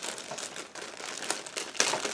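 Plastic bag crinkling and rustling close by as plastic model kit sprues are removed, continuous with sharper crackles throughout, no voices.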